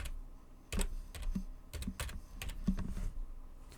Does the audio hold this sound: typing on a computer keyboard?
yes